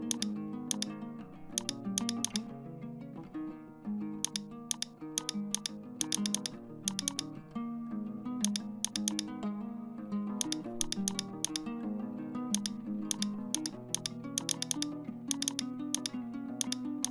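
Text typed on a computer keyboard, close, crisp key clicks in irregular bursts over a steady background music bed, with no one speaking.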